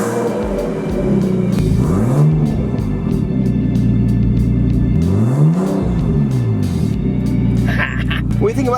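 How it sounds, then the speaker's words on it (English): A loud, raw Nissan 350Z with an LS engine swap and no muffler revs up and down twice, rising and falling in pitch, with a brief voice near the end. "this car sounds good without a muffler on it"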